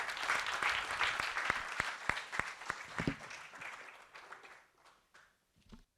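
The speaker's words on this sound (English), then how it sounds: "A big applause for Dr. Lucia." An audience at a panel on a WHA resolution applauds for a speaker, with dense clapping that thins into scattered claps and fades out, a few last claps at the end.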